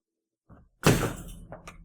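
A dog knocking a pile of household things over nearby: a soft thump, then a loud clattering crash that fades, with a couple of smaller knocks trailing after.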